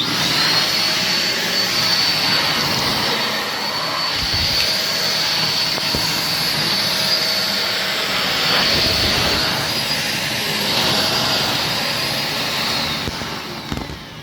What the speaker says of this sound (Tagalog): Derma vacuum cleaner.